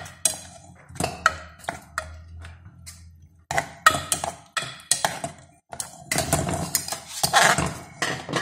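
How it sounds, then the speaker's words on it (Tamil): Amla jam cooking with sugar in a metal pan, stirred with a spoon that makes loud, irregular clinks and scrapes against the sides, with short pauses between bursts of stirring. "சீனியை கொட்டி நாம் கிண்ட வேண்டும்."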